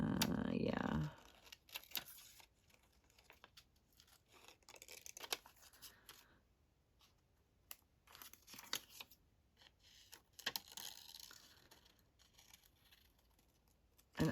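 Scissors snip into paper for a creative daily journal, with a burst of crinkling at the start and then sparse, quiet clipping cuts separated by near silence.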